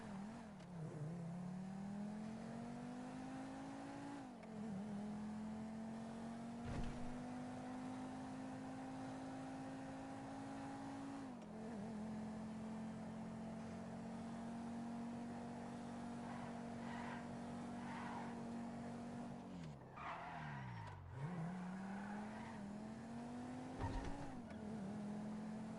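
A Fallion GT car driving in a video game, a sustained engine drone with a clear rising and falling pitch as it shifts through gears and accelerates again, fairly quiet and continuous.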